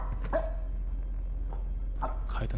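A dog barks several times in the horror video game Supernatural, set inside a haunted house, with short sharp yelps and whimpers in an irregular rhythm over a low steady hum.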